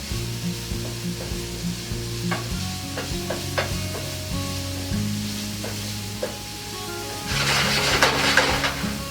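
Vegetables sauteing in a skillet during a live cooking demo, with steady sizzle and repeated stirring scrapes throughout, building to a brighter, louder sizzle near the end.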